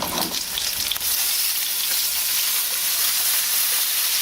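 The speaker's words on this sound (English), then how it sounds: "I'm just going to use some lemon juice, okay, and we're just going to pop that in there" Chorizo sausage sizzles loudly in a pan as lemon juice is poured in to deglaze it, producing a bright, steady, hissing fry that continues without a break.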